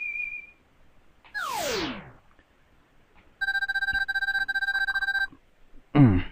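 Proto Man's whistle from the Mega Man 7 video game: a short tonal chiptune melody with steady pulsing notes, preceded by a descending sweep and other game sound effects.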